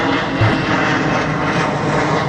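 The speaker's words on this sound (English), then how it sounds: "Airplanes." An airplane passes overhead as a loud, steady broadband roar that fills the whole short stretch with no break, and nobody speaks over it.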